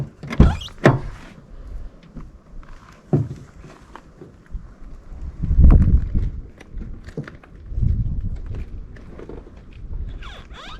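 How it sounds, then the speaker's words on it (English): A car door is opened and closed several times on a car being repaired after a snowstorm, with creaking hinge squeaks, clicks and soft thuds spread across the stretch, close and moderately loud, with no talking. "I think some of that's just the door hinge sound."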